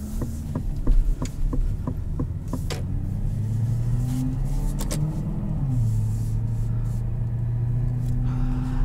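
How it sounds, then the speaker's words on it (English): Turn signal inside a 2021 Aston Martin DBX gives a series of deep, evenly spaced ticks over a low engine hum, the ticking clear at first before the car's drone rises and dominates. "You can tell that's a very different sounding turn signal."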